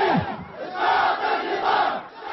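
A large crowd of young protesters in Yemen chants in rising and falling waves, a dense mass of many voices shouting together in rhythm, loud and continuous throughout.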